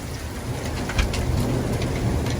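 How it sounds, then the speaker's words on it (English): Heavy rain pours steadily onto surfaces during a Fort Worth, Texas thunderstorm, a dense continuous hiss with scattered sharper drop impacts, no voices. "And the rain is here."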